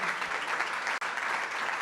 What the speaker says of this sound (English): You guys can applaud.